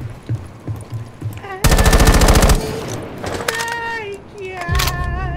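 Automatic gunfire in the video game Rainbow Six Siege, a loud rapid burst of shots followed by further sharp shots and electronic game tones, with people talking faintly around it.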